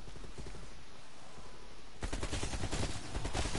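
Rapid automatic rifle fire from an AK in Call of Duty Black Ops Cold War Zombies on the Die Maschine map, starting as a loud sustained burst about halfway in over a low background rumble.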